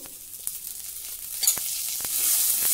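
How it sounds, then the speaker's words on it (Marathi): Okra seeds roast in a little oil in a pan, giving a soft steady sizzle that swells toward the end, with a few light scrapes from stirring, close and without speech. "आणि हे भेंडीचे दाणे देखील व्यवस्थित भाजून घेऊ।"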